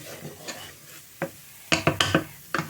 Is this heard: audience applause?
no